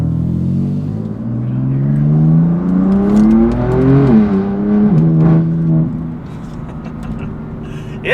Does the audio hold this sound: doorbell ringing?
no